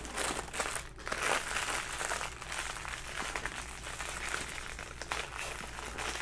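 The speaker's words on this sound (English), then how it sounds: "Sorry, plastic bag again." Plastic bag crinkling and rustling continuously up close, with soft crackles and crunches throughout, fairly quiet and without any talking.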